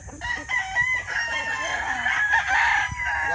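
A rooster crows loudly and close by, its long drawn-out call running nearly the whole time against a busy farmyard backdrop with other fowl clucking faintly.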